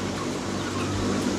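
Chickens cluck continuously in a crowded broiler house, a dense, busy mass of bird calls close by, with no talk.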